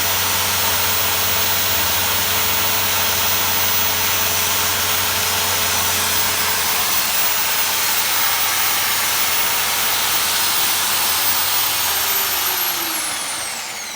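A generator built from an asynchronous induction motor runs under an active load, a steady, loud mechanical hum with a whirring tone that holds throughout, then begins to wind down at the end.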